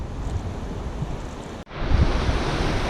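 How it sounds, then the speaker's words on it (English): A steady, broad roar of rushing whitewater at the Blue Chute rapids on the French River, loud and continuous, with a brief dropout partway through before the churning resumes. "This is the blue chute rapids."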